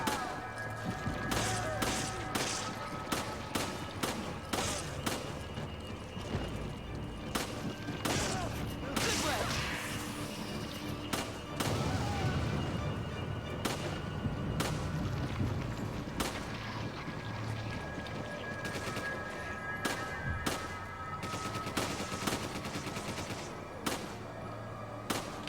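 Sheva's suppressing gunfire in Resident Evil 5, steady single shots spaced through the clip at moderate distance, with a rumbling burst partway through.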